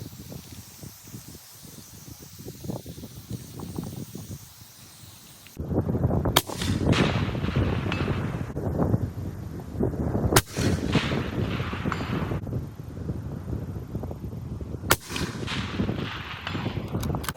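Three sharp, loud Gunwerks rifle shots fired at a 600-yard target, each a hard crack with a long rolling echo, spaced several seconds apart over outdoor wind noise.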